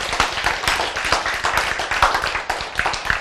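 A church congregation claps together in a dense burst of hand claps, loud and close, continuing steadily without talk.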